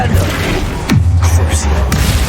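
Flipendo spell cast in the Hogwarts Legacy video game: a sharp whooshing blast with a falling tone, followed by a low rumbling thud, set against a busy continuous game soundscape.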